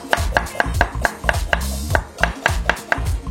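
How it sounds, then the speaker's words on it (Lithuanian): A knife slices a carrot into rounds on a cutting board, with brisk, evenly spaced crisp knocks about four per second, close and clear, and no voices. "Morką griežinėliais."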